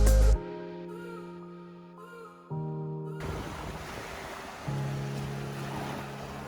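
Surf washing onto Pamucak, a wild 5 km beach near Kusadasi on Turkey's Aegean coast, in the evening: a steady broadband rush of waves, partly overlaid by a sustained tonal hum or drone.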